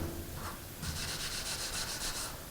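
A white Scotch-Brite pad rubs across a surface to wear it down, giving a close, steady scrubbing hiss in several back-and-forth strokes with no voices.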